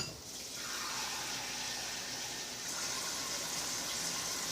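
Water streams steadily into a saucepan, a continuous rushing splash that shifts slightly in tone partway through.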